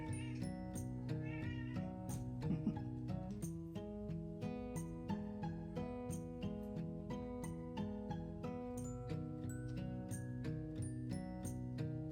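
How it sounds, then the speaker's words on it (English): A vocal pet cat meows again and again indoors, close by and fairly loud, its calls repeating steadily over a quiet room during a cross-stitch session. "That's my cat, he's very vocal."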